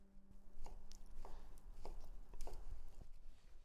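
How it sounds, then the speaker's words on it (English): A knife chops cooked ingredients for an Italian summer pasta salad on a board, landing about seven crisp, evenly spaced strikes at close range, with no voices. "Now we can cut up the ingredients that we cooked."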